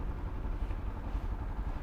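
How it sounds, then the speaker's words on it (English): Street traffic in Oruro, Bolivia, near a local market: a steady, dense low rumble of passing cars and motorcycle engines, continuous and moderately distant, with no clear voices. "A lot of traffic"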